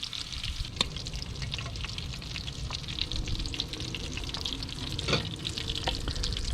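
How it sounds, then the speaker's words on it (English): Steady close-up sizzling of oysters frying in hot oil, crackling continuously with occasional louder pops. "Frying right now."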